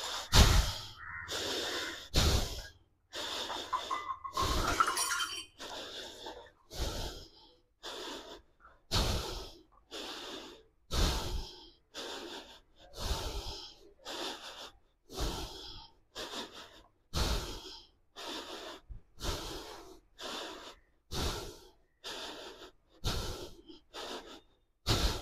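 Slow, deep breaths in and out during a held yoga pose, each long inhale and exhale clearly audible and close, repeating in an even rhythm with no talking.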